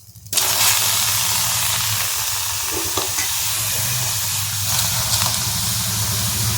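Tomatoes drop into a hot pan already holding ginger, green chilli and panch phoron for a tomato chutney, setting off an abrupt loud hiss that holds as a dense, even sizzle, close up with no voices.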